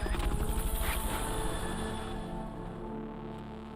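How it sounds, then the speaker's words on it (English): The Fulton recovery helicopter in Metal Gear Solid: Peace Walker HD Edition: a steady, whooshing rotor drone that is fairly loud at first, then slowly thins and fades away. "Fulton recovery helicopter is complete"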